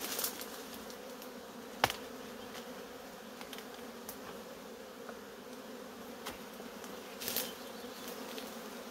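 A gentle colony of honey bees drones around an open wooden beehive during an inspection, giving a steady low hum that runs throughout, broken by a few soft knocks and clicks from handling the hive.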